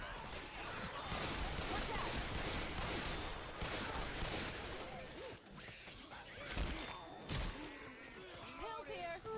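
Gunfire in the game Palia comes as rapid, clattering shots and crashes, fairly faint, mixed with players talking over one another.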